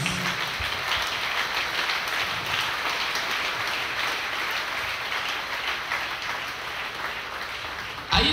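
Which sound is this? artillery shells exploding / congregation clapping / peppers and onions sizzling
congregation clapping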